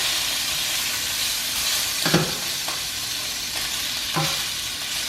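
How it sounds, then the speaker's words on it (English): Bacon frying and getting a bit burnt in a pan on a home stove, with a steady loud sizzle throughout and a few brief scraping stirs. "I'm so bad at cooking bacon on the stove."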